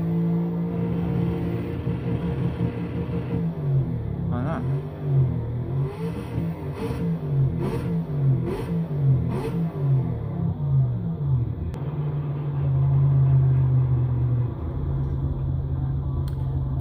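A race car engine in a PS4 racing video game revs during a warm-up lap, its pitch rising and falling in repeated sweeps over a steady mechanical drone.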